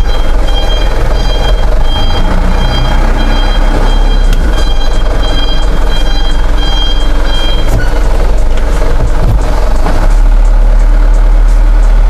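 A Mitsubishi Canter 110 PS diesel truck idles steadily in reverse gear, a loud constant engine rumble with a faint repeating high reversing beep over it and no talk.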